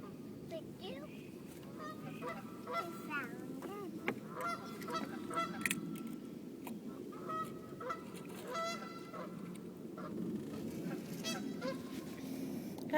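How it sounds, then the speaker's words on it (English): Geese honk repeatedly at moderate distance over steady outdoor background noise, with a faint voice or two now and then. "Do you hear the geese?"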